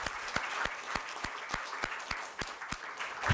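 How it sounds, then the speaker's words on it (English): A gathering applauds in honour of Kusum Jain on her birthday. Broad applause carries steady, regular rhythmic claps through it and swells again at the end. "will give a resounding applause to her on her birthday"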